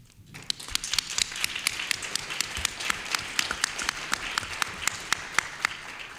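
Audience applause at a panel discussion on economic security in New York, a steady run of scattered claps from a modest crowd, fairly faint and rising quickly from silence.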